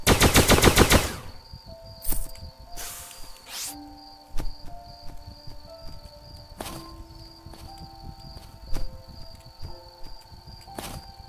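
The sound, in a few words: gunfire in the video game Starbound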